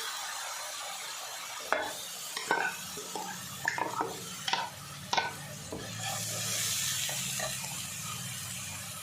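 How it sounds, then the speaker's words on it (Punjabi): A spoon scrapes and knocks against a pan in irregular strokes while ground onion and green chili fry, the sizzle growing louder and steadier near the end. "ਪਹਿਲਾਂ ਅਸੀਂ ਪਿਆਜ਼ ਤੇ ਹਰੀ ਮਿਰਚ ਨੂੰ ਭੁੰਨਾਂਗੇ"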